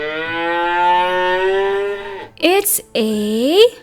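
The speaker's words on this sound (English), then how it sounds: "The cow says moo, moo." A cow gives a long, loud, drawn-out moo followed by two shorter lowing calls, close and clear, with a brief spoken phrase in between.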